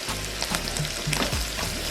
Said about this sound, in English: be conscious of stirring so it's not burning